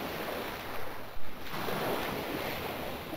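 A waterfall in the video game Witchaven gives a steady, full roar of rushing water that fills the scene without pause, with a brief louder swell partway through and no speech.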